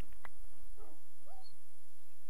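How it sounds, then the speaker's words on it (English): Puppies in the Zoo Crafting video game whimper and yip in a few short, high whines, faint and spaced out over quiet game background noise. "Oh, the puppies are getting hungry."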